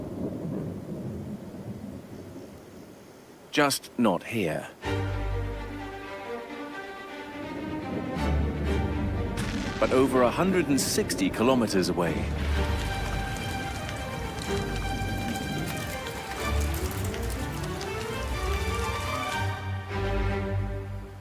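Rain patters under low rolling thunder while someone narrates, with tonal music-like sounds mixed in.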